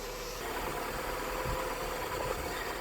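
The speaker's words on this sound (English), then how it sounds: "obviously with the engine on tick over" An Austin Ambassador automatic idles on tick over with the bonnet raised, giving a steady, even engine drone with a faint mechanical rattle, heard up close and alone for about three seconds with no talking.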